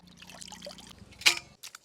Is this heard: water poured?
yes